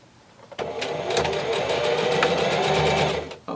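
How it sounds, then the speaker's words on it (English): A sewing machine runs steadily for about three seconds, stitching along the edge of an infinity scarf's opening, with a close, even motor whir that starts and stops abruptly and has no talk over it. "I'm going to sew right at the very edge of the opening"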